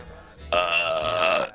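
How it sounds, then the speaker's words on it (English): A single long, loud burp, drawn out for about a second, heard close up after a brief quieter lead-in. "Give us another burp."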